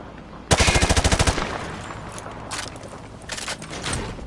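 A rifle in the MW2 remaster fires into a target through a wood panel: a fast, loud burst of about ten close shots, then a few scattered, fainter shots.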